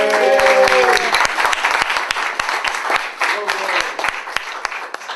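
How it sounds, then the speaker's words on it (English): An audience at a speaking event gives a round of applause, with loud, close crowd clapping throughout and a few whooping voices cheering near the start and again partway through. "Everybody, round of applause for my girl."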